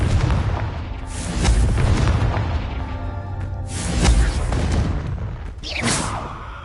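Booming blasts from the Confringo explosive spell in Hogwarts Legacy go off three times, each a heavy rumbling burst with a short rolling tail.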